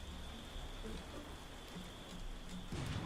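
Steady rain falls over a swamp in the video game Tavern Keeper, a soft continuous hiss of drops on water and ground with a faint high tone throughout and a brief louder patter near the end; no one talks.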